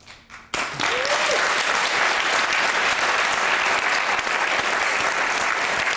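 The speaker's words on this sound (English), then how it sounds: "Not often you get a round of applause for a question, but it's happened." A studio audience on a BBC debate show breaks into a round of applause after a short quiet lead-in with a brief voice, then sustained, loud, dense clapping to the end.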